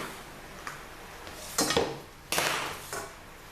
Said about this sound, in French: Alors pour ça, on va prendre une poêle.